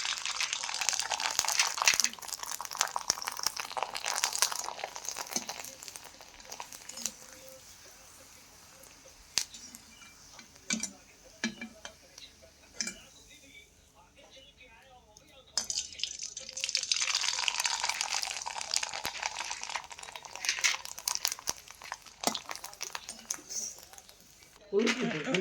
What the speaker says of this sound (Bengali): এখন আমি পরপর পাঁপড়গুলি ভেজে নিচ্ছি।